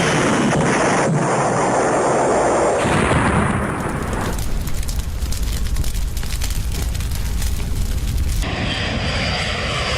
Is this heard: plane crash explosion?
yes